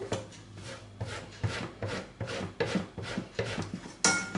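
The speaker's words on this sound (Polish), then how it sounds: "I teraz masło ścieram na tarce do mąki" Cold butter is rubbed across a flour-dusted grater into flour for shortcrust apple pie dough, a rhythmic series of soft, close scraping strokes about twice a second, with no talking.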